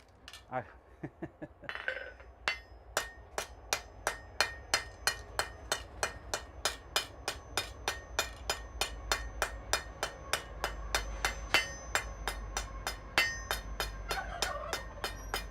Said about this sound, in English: Get it closer to the edge of the anvil so I don't keep tapping the anvil